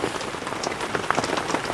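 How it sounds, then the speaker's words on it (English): Steady rain drums on a tarp stretched over a camper at a Lake Superior beach campsite, a dense patter of close drops with scattered louder taps and no voices. "All that rain hitting the top,"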